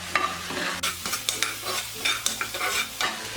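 A spoon stirs a flour and chicken stock mixture in a pan for chicken-filled bread, with rhythmic scraping strokes over a soft sizzle and a low hum, close and clear without speech.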